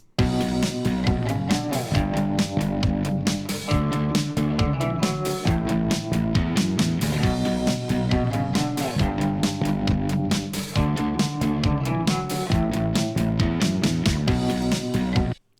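A programmed drum loop from the KLI Series 3.0 library, with extra snare accents at the ends of the fourth and eighth measures, plays a steady, dense, loud groove of driving hits alongside music, with no talking.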